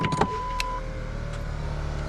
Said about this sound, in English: We're going to roll down the window.